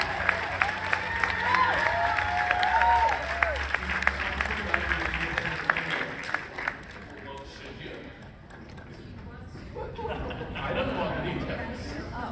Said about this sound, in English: I think you ought to give it up one more time for Laura Vandervoort, ladies and gentlemen.